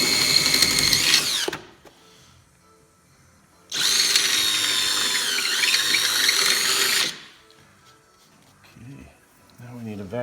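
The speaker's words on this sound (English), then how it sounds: "the final hole is drilled with a 13/32 drill bit" A power drill with a 13/32 bit whines loudly for about two seconds, stops, then runs again for a longer burst before falling quiet; faint clatter follows.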